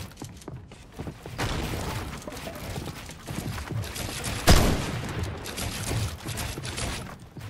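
Shotgun blasts in the video game Fortnite, a few sharp booming shots over a busy background of game effects, one especially loud close blast near the middle.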